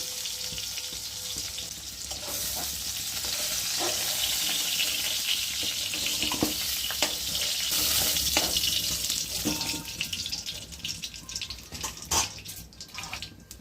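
Steady hissing sizzle of pointed gourd frying in hot oil, continuous and close, with occasional clinks and scrapes near the end.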